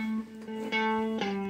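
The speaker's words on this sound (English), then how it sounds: "Quite a short reverb there." An electric guitar played through a reverb pedal on a short room setting gives a few sustained picked notes that change pitch, each with a brief ambience tail, clear and alone.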